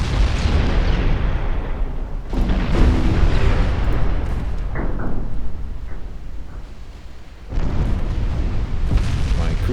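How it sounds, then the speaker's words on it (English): In Ultimate Admiral Dreadnoughts, a 15-inch shell hits a battleship's main gun and sets off a flash fire: loud, continuous booming and rumbling blasts with a roaring, crackling fire, close and heavy, and no voices. "she took a 15-inch hit to the main gun"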